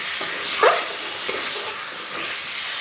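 Potatoes frying with spices in a pan while being stirred, a steady broad sizzle with a brief scraping stir near the start, close and fairly loud, no talking.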